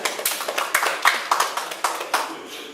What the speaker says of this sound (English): So just give yourselves a clap, give yourselves a hand.